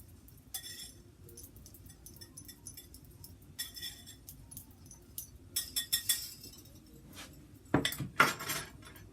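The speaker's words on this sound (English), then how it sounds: "So we want to mix all of this up like so." Orange olive oil rum cake ingredients being mixed in a bowl, scattered light clinks and scrapes of a utensil against the dish, quiet and intermittent with a louder clatter near the end.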